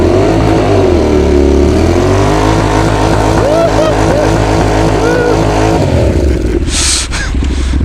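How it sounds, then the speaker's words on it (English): A car doing a tyre burnout, its engine roaring loud and steady with revving swells under the wheelspin, then a brief dip and fade near the end, with faint voices present. "Burn out."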